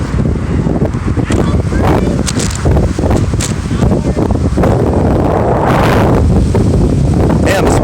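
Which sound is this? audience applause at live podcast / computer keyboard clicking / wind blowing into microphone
wind blowing into microphone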